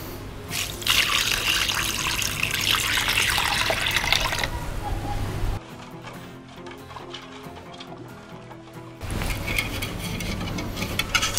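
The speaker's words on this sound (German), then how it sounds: "Ein bisschen Wasser." Water is poured into a pot while pulled pork is being prepared with garlic, pepper and brown sugar. The pour is a steady, splashing rush that pauses midway, then resumes, with no talk over it.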